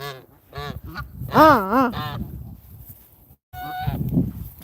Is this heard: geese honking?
yes